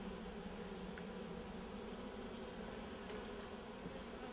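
Honey bees buzz around an open hive during a queen insertion, a faint, continuous drone with no voices over it.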